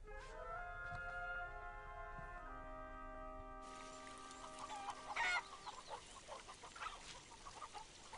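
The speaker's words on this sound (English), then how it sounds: "This is the mother hen," A mother hen clucks in a low, uneven series of close calls, first under sustained musical tones and then alone over a rough, noisy background.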